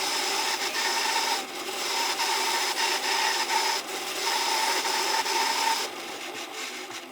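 Bandsaw slicing the corners off a patterned plywood bowl blank, a steady close rasping cut that runs continuously with brief dips between passes, no talking.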